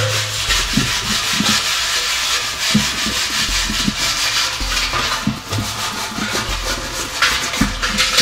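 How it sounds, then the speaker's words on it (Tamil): A copper vessel coated in tamarind and kolam powder is scrubbed by hand, giving repeated rough rubbing strokes in an uneven rhythm, close and fairly loud, with no talk. "இந்த செம்பு பாத்திரத்தை நல்லா தேய்ச்சி தரேன்"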